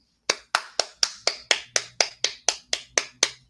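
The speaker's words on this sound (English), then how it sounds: "Applaud, applaud, applaud" Sharp, evenly spaced hand claps from a single person, about twelve in a quick steady rhythm, close and loud with no talk over them.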